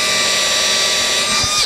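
Power drill with an eighth-inch bit boring into a wood fixture in a guitar-making shop, a steady high whine held close and loud for the whole stretch, easing off at the end.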